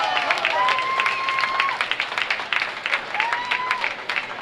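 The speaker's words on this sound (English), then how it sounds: "Let's give him a round of applause" Audience at a county fair swine show applauding the class-winning pig, steady moderate clapping from the stands with voices and a whistle over it.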